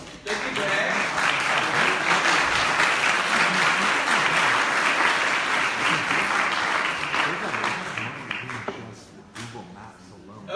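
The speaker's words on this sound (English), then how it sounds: "Let's give them all one more round of applause." Sustained audience applause at a startup pitch competition, loud and dense for about eight seconds before thinning out and fading, with a few scattered claps near the end.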